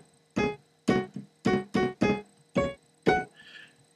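A virtual grand piano played with only key-down samples and no release samples, eight distinct notes struck one after another, each cutting off abruptly, with a faint soft tail at the end.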